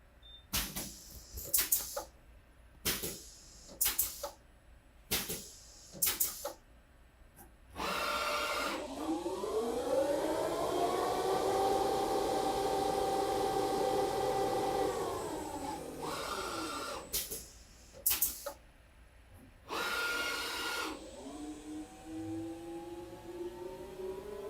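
A ProtoTRAK RLX lathe spindle spins up with a rising whir, runs steadily for several seconds, then winds down, framed by a series of sharp clicks and short mechanical bursts nearby.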